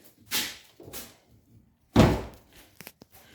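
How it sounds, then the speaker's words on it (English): A Chevrolet Corvette C6 driver's door with a failing actuator clunks and thuds as someone tries to open it, giving a few dull latch knocks separated by pauses. "The door on the driver's side will not open."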